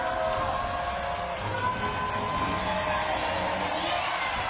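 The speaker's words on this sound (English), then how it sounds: "Rapturous applause all round." A large outdoor crowd at the National Day Parade 2017 applauds and cheers after a Red Lions parachute display, a continuous, fairly distant wash of clapping and voices.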